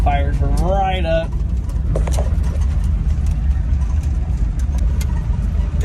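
A 1977 Toyota Hilux, fired up with fuel poured into the carburetor after sitting abandoned for 20 years, runs with a loud, steady low rumble; a wavering rising tone sounds briefly at the start.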